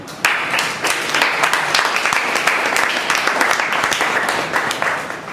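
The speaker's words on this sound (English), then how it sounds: "again a big round of applause for the committee members" Applause for committee members at a Bangalore Toastmasters gathering, with many hands clapping steadily and close by, dense and continuous from start to finish.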